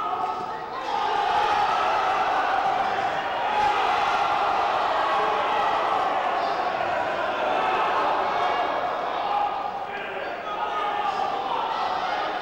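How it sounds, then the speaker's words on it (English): Spectators at a boxing match cheer and roar in a steady, dense swell of crowd noise that holds throughout, with a commentator's voice faintly audible underneath. "Crowd enjoying the action."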